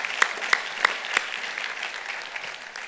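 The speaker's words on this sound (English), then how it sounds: "yep, that deserves an applause." At a law school commencement, an audience gives a short burst of applause: a few distinct sharp claps stand out over a thin scattering of clapping that fades quickly.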